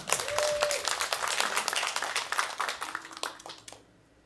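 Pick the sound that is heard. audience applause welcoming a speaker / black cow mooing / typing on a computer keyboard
audience applause welcoming a speaker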